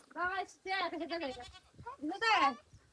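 Goats bleat loudly and close in a village farmyard, several wavering calls in quick succession, with a person talking nearby.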